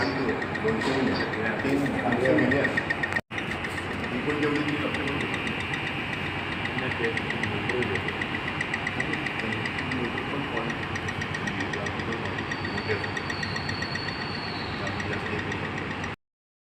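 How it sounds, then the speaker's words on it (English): An experimental switched reluctance motor built for electric vehicles runs steadily at a constant speed, giving a continuous even whine with a brief break near the start. "The fabricated SRM runs smoothly and offers more performance compared to the conventional SRM."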